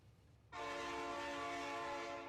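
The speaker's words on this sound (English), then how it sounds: "here comes the train" A slow train in the video game Factorio sounds a sustained, bright, tonal horn-like call that starts abruptly and holds steady and loud until the end.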